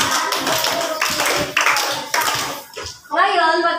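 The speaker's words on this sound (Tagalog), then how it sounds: "Bigyan nga ng palakpak, 5 bagsak ng palakpak ang inyong mga sarili." Students in a classroom clap together in a short burst of sharp, near rhythmic claps, then a voice rises briefly at the end.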